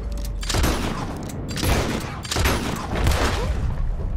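Gunfire in Red Dead Redemption 2, a rapid string of loud booming shots in several bursts, dense and close, with no talking.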